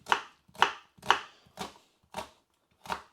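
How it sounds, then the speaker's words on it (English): A kitchen knife dices onion on a cutting board in six sharp, evenly spaced chops, close and loud, with short silences between strikes. "as you can see, some pretty good onion dicing"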